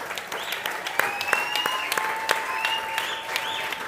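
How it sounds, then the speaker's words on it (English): Steady audience applause for a football player honored for a 75-yard interception return touchdown in the NFL Hall of Fame game, dense clapping with a few sharp louder claps and a faint whistle-like tone throughout. "Can we get this guy some applause?"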